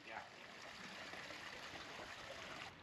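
Water rushing steadily into a canal lock as it fills, a continuous hissing, churning flow close by, with no voices.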